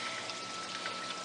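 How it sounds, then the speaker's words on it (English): Aquarium water from a reef tank poured back into the sump, a steady continuous splash and trickle of water, close and even throughout with no talking. "Now, I dump the existing water back into the sump."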